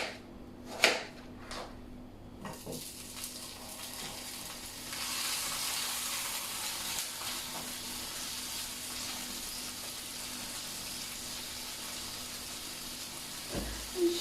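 Seasonings frying in a home kitchen pan while breakfast is made: a steady, soft sizzle and hiss fills the clip, opened by a few clattering stirs and knocks and closed by another utensil clink.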